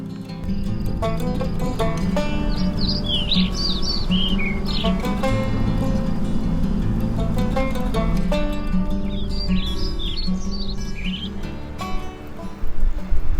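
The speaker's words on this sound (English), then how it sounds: "All these birds are singing to us." Birds sing and chirp along a rural Nebraska road during a morning bicycle ride, with bright trilling calls in two clusters over a steady, loud rolling ride noise.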